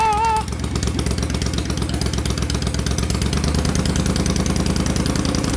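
A Moto Guzzi engine fitted with Stromberg hot rod carbs, still needing tuning, fires up and settles into a loud, close, rhythmic idle with a steady lumpy pulse.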